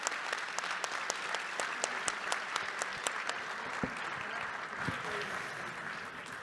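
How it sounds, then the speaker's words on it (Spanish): Sustained applause from a conference audience honoring the panelists at an education summit panel, steady dense clapping with a few sharper individual claps standing out, moderately distant. "Un gran aplauso para los panelistas."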